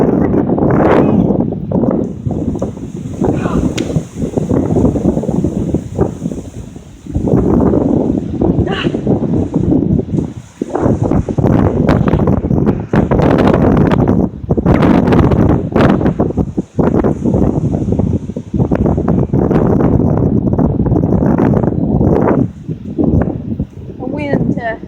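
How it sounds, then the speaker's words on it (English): Strong wind roars and buffets the microphone outdoors in a loud, continuous low rumble with brief lulls, while people talk over it. "Where's this wind going?"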